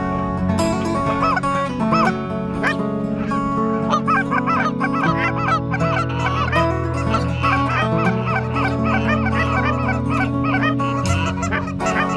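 A flock of Canada geese honking in Ontario, many overlapping calls layered into a dense, continuous chorus that sounds fairly close and loud throughout.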